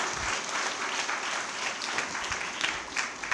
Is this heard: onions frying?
no